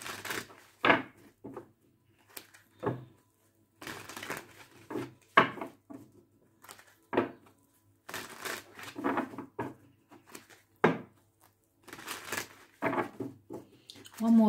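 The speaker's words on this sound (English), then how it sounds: "One more shuffle." Tarot cards are shuffled in a series of short, crisp riffling and slapping bursts separated by brief pauses, close up and fairly quiet, with no talking.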